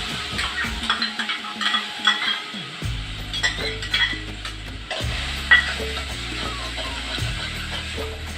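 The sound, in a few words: jackfruit pulp sautéed in ghee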